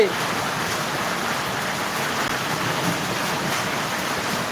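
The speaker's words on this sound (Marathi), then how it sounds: "जोरदार पाऊस पडत आहे" Heavy rain pouring down at the Balumama temple in Wai taluka, Satara district, a steady dense broadband wash of water with no pauses, loud and continuous throughout.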